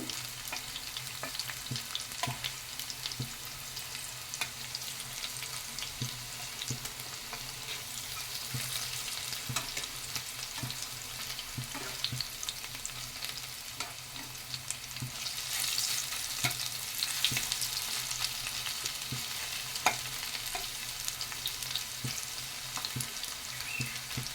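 Onion pakoras sizzle steadily in hot oil as they are turned, with a faint, even crackle running throughout. Occasional soft taps and scrapes of a utensil can be heard, and no one speaks.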